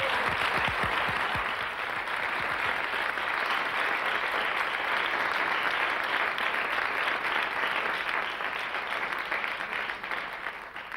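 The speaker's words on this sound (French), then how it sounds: "Quelques applaudissements pour nos camarades." A television studio audience applauds steadily through the whole stretch, starting with a few sharp individual claps before settling into a loud, even, sustained roar of clapping.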